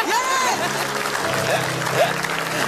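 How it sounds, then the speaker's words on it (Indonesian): A comedy show audience claps steadily through a short burst of applause, the clapping blended with crowd noise and a few overlapping voices. "Tepuk tangan dong"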